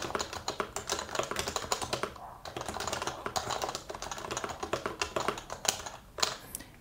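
Typing on a Happy Hacking Keyboard Professional Bluetooth with regular, non-silent key switches: a steady, close run of crisp keystrokes with brief pauses.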